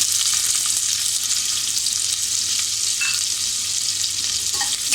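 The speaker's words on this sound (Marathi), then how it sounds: "हा फोडणीसाठी कांदा टाकूया" Onion fries in hot tempering oil in a pressure cooker for a Malvani black-eyed bean and potato bhaji, producing a steady, loud, close sizzle with a few faint clicks and no speech.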